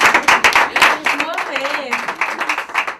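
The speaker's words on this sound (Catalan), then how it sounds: "Es mereix un gran aplaudiment" Brisk clapping from a small group after a Catalan Christmas carol performance with choreography, a dense patter of hands lasting a few seconds with voices cheering and talking over it.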